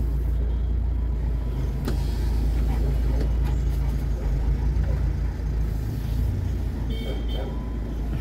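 A vehicle pulls out in what sounds like a car or truck, its low engine rumble steady and close throughout, with indistinct voices and passing noises over it.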